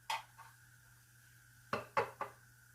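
Butter, olive oil and crushed red chilli are stirred in a pan, with a few quiet, sharp clinks of a utensil against metal, one near the start and three close together near the end, separated by near silence.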